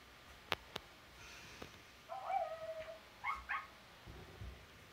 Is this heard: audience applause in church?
no